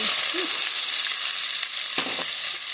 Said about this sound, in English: now you got them all nice and browned up and sizzling and spitting grease everywhere